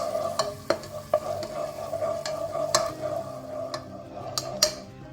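Ground Kashmiri chili paste sizzles in melted butter in a pan, a soft continuous fry broken by sharp clinks and scrapes of a spoon stirring against the metal, close and quiet.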